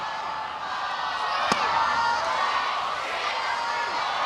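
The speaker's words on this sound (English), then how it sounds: "Crowd getting on Brown with the ball 6 chant right now." A softball crowd at an NCAA game between Arizona State and Texas A&M keeps up a steady, loud roar of massed voices chanting at pitcher Brown on a ball-six count, with a single sharp knock cutting through early on.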